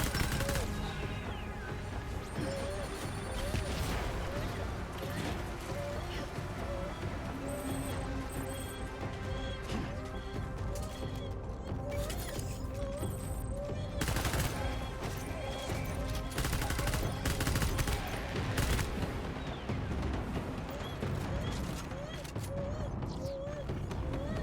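Video game gunfire, with repeated shots and crashes, rattles over a busy background of mechanical noise, while a voice talks over much of the fighting.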